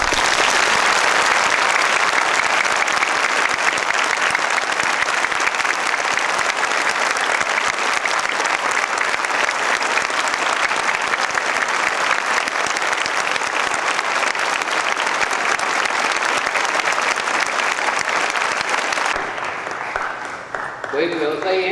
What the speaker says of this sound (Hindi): आप अपनी पूर्ण सहमति प्रकट करते हुए तालियों के साथ उस व्यक्ति का स्वागत करिए